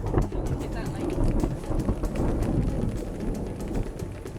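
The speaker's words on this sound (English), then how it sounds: "That thunder was loud." Thunder rumbling low and heavy during an African rainstorm, with rain spattering and dripping steadily on surfaces nearby and a voice talking briefly over it.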